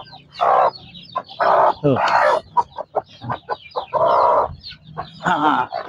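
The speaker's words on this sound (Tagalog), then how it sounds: "Ayan mga manok ko, nagiiya ka na. Gutom na." Several chickens cluck and squawk in bursts close by, with a brief rooster-like call in the middle and some sparse talk underneath.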